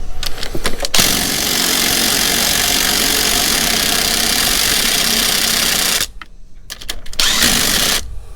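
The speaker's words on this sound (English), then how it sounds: "So he said he wanted to get it running, and it's running. It starts up with a button" Zero turn mower engine starting with a push button and then running loud and steady nearby, with brief mechanical clatter at the start and a drop in level near the end.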